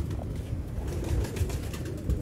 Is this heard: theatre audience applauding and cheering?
no